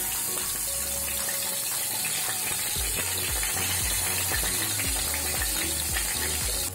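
Ground masala paste with asafoetida sizzles as it is sautéed in a pan while cooking traditional monsoon wild asparagus (shatavari) soup; a steady, close frying hiss runs throughout with small crackles and stirring scrapes.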